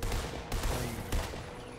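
Rapid gunfire rattles in a Fortnite zombie mode match, a short burst of dense shots with a couple of sharper cracks, close and loud.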